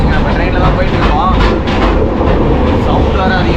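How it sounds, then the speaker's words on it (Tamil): Passenger train rolling along with a loud, continuous rattle and rumble near the coupling joint between compartments, a dense steady clatter filling the whole stretch. "இங்கேருந்து அந்தாண்ட கம்பார்ட்மெண்ட் போகிறது அது இருக்கிறதுனால சவுண்ட் கொஞ்சம் அதிகமாக கேட்குது."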